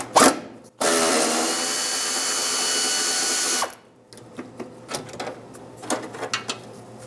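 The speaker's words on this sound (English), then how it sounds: "I'm just going to use my air ratchet." Air ratchet spinning out 13mm heat shield bolts on a 1998-2002 Lincoln Navigator: a short buzz, then a loud steady whir of about three seconds, followed by scattered metallic clinks and handling noises nearby.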